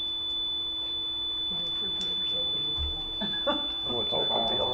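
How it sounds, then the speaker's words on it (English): A steady, faint electronic alarm tone drones on continuously beneath a public board meeting, barely noticeable under room noise, murmuring voices and shuffling. "That's a fire alarm, it's pretty weak."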